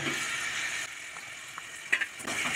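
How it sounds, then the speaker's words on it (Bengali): Fried pointed gourd goes into boiling curry broth, giving a steady bright sizzle and bubbling with a few soft clinks and stirring knocks, close up and without talk. "দেখুন আমার ঝোলটা ফুটে উঠেছে। এখন আমি এর মধ্যে ভেজে রাখা পটলগুলো দিয়ে দেবো।"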